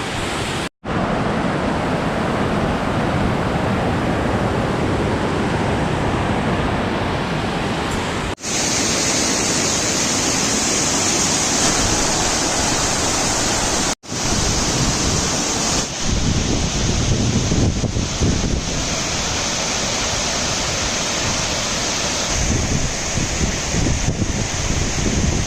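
Thooval waterfall in Idukki roars as a steady, loud wash of falling water, with wind buffeting the microphone and a couple of brief dropouts.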